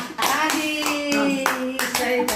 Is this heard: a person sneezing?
no